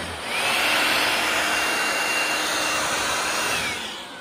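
A Harbor Freight 20V cordless mini shop blower spins up and blasts dust off a surface, a near, steady rushing whine with a rising pitch that holds for a few seconds before winding down.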